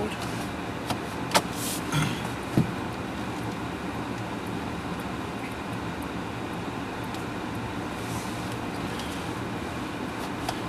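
Steady low road and tyre rumble from a 30 kWh Nissan Leaf electric car driving along the road, continuous and even throughout with a couple of brief knocks near the start.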